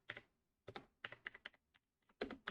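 Typing on a computer keyboard to enter a command: several short bursts of clicky keystrokes separated by brief pauses, close and fairly quiet, with no voices.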